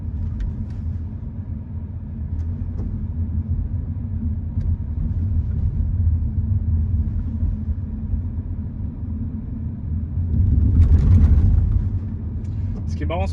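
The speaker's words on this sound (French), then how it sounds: "je vais me taire totalement au passage des dodanes pour que vous puissiez écouter avec moi s'il y a des bruits suspects au niveau des suspensions" BMW X2 sDrive 18i 140 hp crossing speed bumps: a steady low cabin rumble of road and engine, swelling into a heavier thump and surge near the end as the wheels roll over a bump, with no talking.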